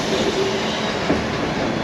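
The White Pass train in Skagway, Alaska, running along its track: a loud, steady close rumble of rail cars with faint wheel clatter, no voices.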